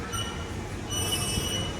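A London Underground Central Line train rumbles loudly with high metallic wheel squeal over a continuous roar, heard from close by without speech.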